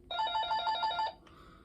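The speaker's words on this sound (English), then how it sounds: "Yep, we're going to be listening to the ringtones." Ringtone number 2 on a Panasonic cordless telephone rings as a rapid trill of electronic beeps lasting about a second, then breaks off with a faint tone trailing under quiet room noise.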